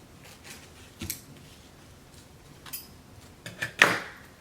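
Scissors snip a small piece from a paper napkin in a few short, crisp cuts spaced across a quiet room, the last cut loudest and closest.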